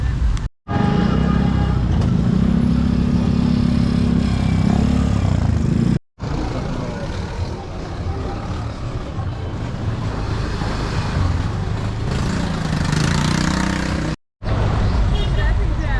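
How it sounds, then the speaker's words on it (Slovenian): Street traffic in a jam in Ambon, Indonesia: a continuous mix of car and motorcycle engines idling and revving close by, heard under someone talking, with a few brief dropouts. "Traffic jam je tule, zastojna."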